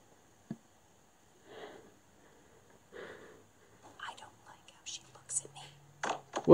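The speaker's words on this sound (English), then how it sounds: "What is this whispering?" Faint, breathy whispering drifts in and out in The Visitor VR horror game, scattered soft hisses in near silence that grow busier and louder toward the end.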